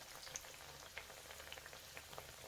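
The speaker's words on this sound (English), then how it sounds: "drop it in the oil, and then we'll deep fry this" Lentil fritter patties (vada) deep frying in hot oil, a steady soft crackling sizzle with scattered small pops, fairly quiet and unbroken, no voices.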